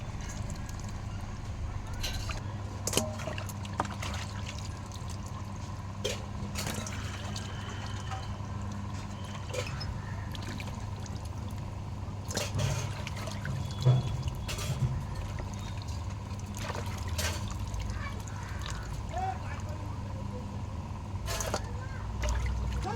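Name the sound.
water poured while washing fish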